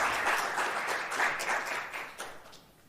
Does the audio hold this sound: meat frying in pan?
no